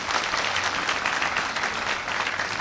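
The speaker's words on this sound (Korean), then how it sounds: "큰 박수 부탁드리겠습니다." Steady, dense applause from the audience greeting a player introduced before a singles final at the 2017 Daegu Futures tennis tournament, sustained and even throughout with no voices.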